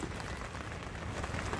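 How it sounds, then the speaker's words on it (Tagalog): Rain falls steadily as a dense, even hiss with no breaks or distinct drops standing out, and no one speaks. "At makulimlim na naman. Umuulan."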